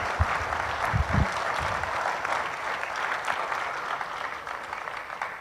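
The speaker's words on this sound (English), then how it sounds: "Let's give him a round of applause as he comes" An audience at a space economy conference session claps steadily for an arriving guest, a dense, even wash of applause that holds for several seconds, with a few louder claps near the start.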